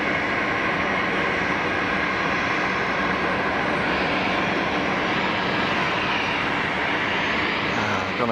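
An airliner starts its takeoff roll at Geneva airport, a dense, steady jet engine roar building at moderate distance, continuous for several seconds without voices.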